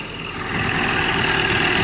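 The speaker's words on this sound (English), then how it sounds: "Now I've had this engine run for 10 minutes or so" A warmed-up engine idles steadily at about 1,000 rpm, a continuous low rumble that holds even and close throughout with no speech.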